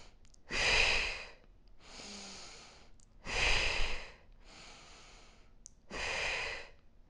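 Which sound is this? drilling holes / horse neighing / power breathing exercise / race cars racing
power breathing exercise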